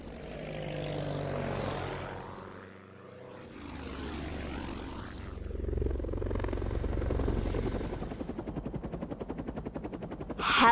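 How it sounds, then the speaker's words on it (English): Helicopter flying, a rotor drone that rises and falls in waves and ends in rapid rhythmic blade chopping close by, with no voices. "Helicopter."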